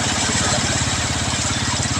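A Yamaha Mio scooter passes on a rough highway with a steady, close mid-pitched engine drone and a fast rhythmic throb that stays loud the whole time.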